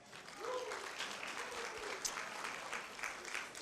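Round of applause from the audience at the Women at Heart event at Mitchell's, moderately distant clapping of a modest crowd with faint voices mixed in, lasting a few seconds.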